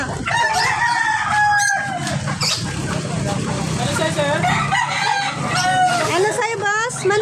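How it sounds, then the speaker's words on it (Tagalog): Newly arrived chickens from Lemery, Batangas crow and cluck loudly at close range while people talk over them throughout. "Ayan po mga manok, bagong dating lang po ito."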